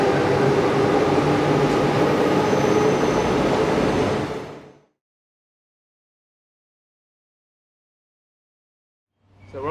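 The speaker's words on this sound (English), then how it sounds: "That's the old train. The Ipswich line, we always get the old train." An old commuter train on the Ipswich line gives a steady rumbling hum for about four seconds, then cuts off to silence before returning faintly at the end.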